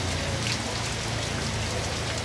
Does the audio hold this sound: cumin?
no